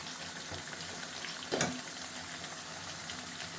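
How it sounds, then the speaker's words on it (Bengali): Spices frying in a pan with a constant close sizzle, broken by one brief louder scrape or stir in the middle, with no talking. "এখন ভালো করে মশলাটা 4-5 মিনিট কষাই নেব"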